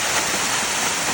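Water rushes out of a farm line as it is flushed of dirt, a steady close broadband gushing wash with no pauses over the short stretch.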